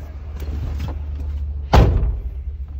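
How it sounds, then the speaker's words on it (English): A truck cab door is shut from inside during a pre-trip inspection of a public works truck, giving one loud solid slam with a short rumble after it over a steady low engine idle. "Shut your door."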